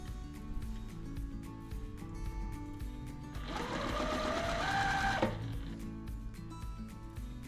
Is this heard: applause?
no